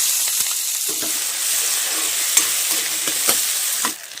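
Chopped onion and capsicum fry loudly in a pan, a dense continuous sizzle with occasional stirring clicks, close and steady before fading at the end.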